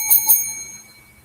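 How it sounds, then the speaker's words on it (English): A bicycle bell rung by hand gives two quick, bright dings close together, then a clear ringing tone that fades over about a second. "Where's my bell?"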